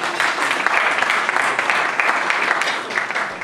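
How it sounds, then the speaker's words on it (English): Loud, dense applause from a gala dinner audience, many hands clapping steadily throughout without a break, close and full. "can we give a big round of applause"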